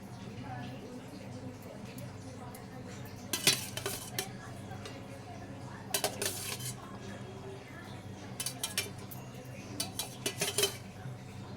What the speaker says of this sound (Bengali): ভেজে রাখা মাছগুলো দিয়ে দেব। মাছগুলো সব দিয়ে দেব।